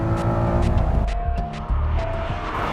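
Honda NSX sports car driven hard on a track, engine roaring steadily with shifting pitch as it works the tires, loud and close with no talk.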